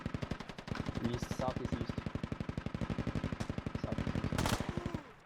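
A machine gunner in the military shooter Squad fires during a Marine Corps amphibious invasion, a long rapid stream of evenly spaced shots that stays loud and steady for several seconds, with a man calling out directions over it.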